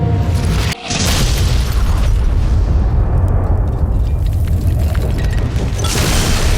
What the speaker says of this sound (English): And an explosion like you have not seen ripples through.